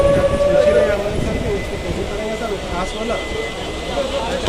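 A train pulls into Gourinath Dham station between Jhalda and Purulia, a steady rumble of rolling wagons with a long high whistle tone running through it.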